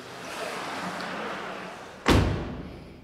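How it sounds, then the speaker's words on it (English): A sliding door in a room of a motorcycle showroom villa shuts with one sharp, close thud after a few seconds of quiet room tone. "actually this is a sliding door"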